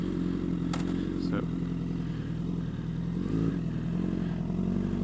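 A motorcycle engine runs steadily as the clutch is let out without throttle and the bike moves off, a low, even rumble close by throughout.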